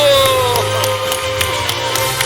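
At a New Year's Eve church service, the congregation breaks into clapping and cheering just after the midnight countdown, a loud close burst of claps mixed with voices and a sustained tone beneath.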